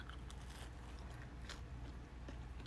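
Someone bites into a buttered, crusty homemade mashed potato roll up close, with a few soft crunches and crackles followed by quiet chewing. The sounds are faint and stand alone with no speech.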